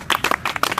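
A small group at an exam toppers' discussion session claps briefly in a few quick, close, sharp bursts lasting under a second, with no talking.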